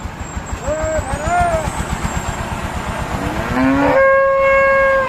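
A water buffalo lets out several drawn-out, low moos nearby, with people talking and engine noise in the background.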